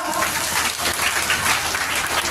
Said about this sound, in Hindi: एक बार जोरदार ताली बजा के अपना अपन स्वागत करेगा